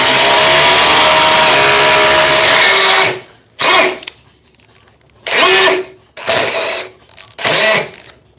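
An oscillating multi tool, one of a Milwaukee 2836-20, FLEX FX4111-Z or Dewalt, runs loud and continuous, then dropped into second gear. It then fires in four short bursts separated by near-silence.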